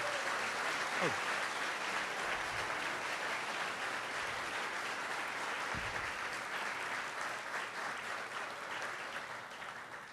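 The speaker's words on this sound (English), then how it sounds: "A big round of applause for that turnout today." A crowd applauds at the grand opening of an LGBT community center in Hauppauge, sustained clapping heard from a distance and fairly quiet, a continuous even wash with a couple of brief low thumps.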